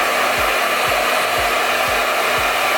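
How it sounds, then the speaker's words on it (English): A hair dryer blowing steadily to dry liquid latex makeup on skin, giving a constant close airy whoosh with a faint motor hum and a regular low thump about twice a second. "Also, you can take a blow dryer,"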